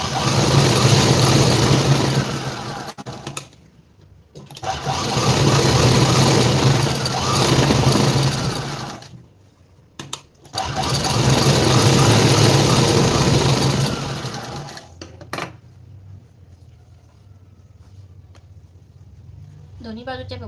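Domestic sewing machine stitching a straight seam on a blouse, running in three long loud bursts separated by brief pauses, then going quiet, with someone talking in between.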